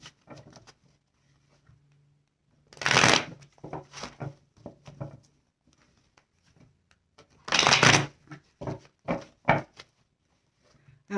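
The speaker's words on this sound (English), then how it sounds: "I have to shuffle, and I'm sorry. I hate doing shuffling on camera because it's loud" Tarot cards are riffled and shuffled in two loud bursts, each followed by softer taps and flicks, with quiet gaps in between.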